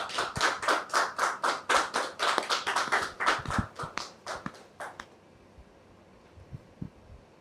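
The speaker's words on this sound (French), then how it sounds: "Monsieur Guy Ndjakan, que nous allons recevoir sous vos applaudissements" A TV studio audience claps together in a brisk, steady rhythm for about five seconds, then the clapping stops and the room falls quiet.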